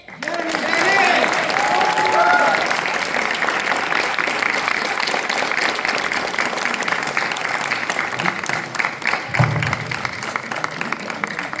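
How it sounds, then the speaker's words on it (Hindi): An audience at an Independence Day poetry recital claps steadily, a sustained wash of applause from a large crowd that swells at the start and carries on with a voice briefly heard over it. "आप सब इतने अच्छे श्रोता हैं, फिर तालियों में इतनी कमी क्यों?"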